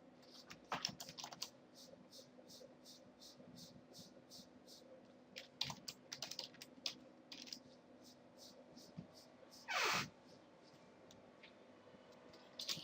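Code being typed on a computer keyboard, a faint run of quick key clicks in bursts, with a short louder click and soft room noise between.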